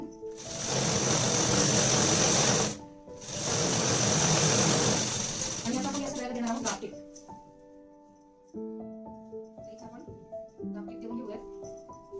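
A sewing machine stitching a blouse, running in two loud, sustained bursts separated by a short pause, then slowing to quieter mechanical clicks and hums near the end.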